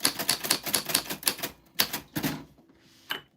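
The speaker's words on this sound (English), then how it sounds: "My typewriter will slowly migrate this way because it's not like attached to the table." Quick, crisp clacks of a manual typewriter hammer out a burst of keystrokes, then pause, resume with a few more strikes, and finish with one isolated key hit, close and clear.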